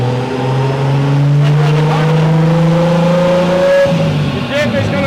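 A Nissan S13 with a 1.5JZ engine revs hard on a dyno, its loud engine note climbing steadily in pitch and then dropping off sharply as the throttle lifts.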